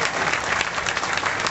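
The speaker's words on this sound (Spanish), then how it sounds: "un aplauso también para ellos" Audience applause for living-statue performers at a bicentennial and centennial celebration: dense, steady clapping from a crowd that holds at an even level throughout the short burst.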